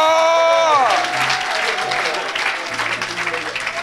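A church worship audience breaks into applause and cheering, a dense burst of clapping and voices that rises after a sung or shouted note fades and keeps going steadily.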